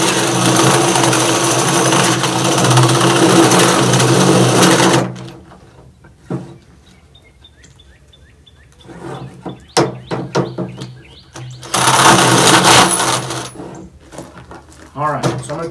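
A power drill bores a hole in wood for a bluebird birdhouse, running loud and steady for several seconds, stopping, then whining again after a stretch of quieter clicks and handling.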